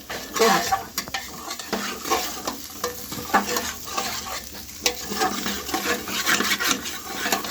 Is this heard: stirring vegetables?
yes